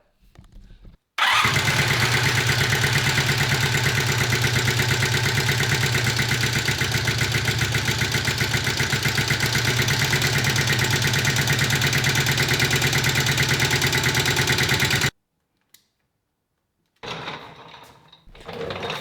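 A Honda CB250 Super Dream motorcycle engine starts and runs at a steady, loud idle for about fourteen seconds, then cuts off; a brief rumble follows after a short silence.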